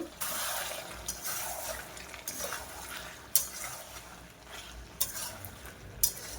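Meat being stir-fried and browned in a pan for kosha, with steady frying sizzle and scraping strokes, including several sharp clinks of the spatula against the pan.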